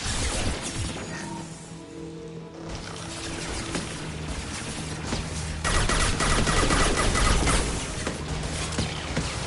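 Hacked defensive turret in Mass Effect 2 firing at enemies, a dense stretch of rapid gunfire and crashing impacts that dips briefly, then returns louder, with game battle noise around it.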